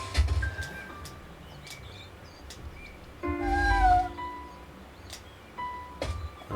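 A cat meowing in a Shenmue video game cutscene, with a few short high meows over soft ambient background and a longer wavering cry in the middle.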